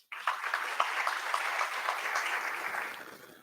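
Audience applause for an organizer at a Pimpri Chinchwad fire services event with King Expo Media, a steady mass of clapping that swells quickly, holds for about three seconds, then fades out.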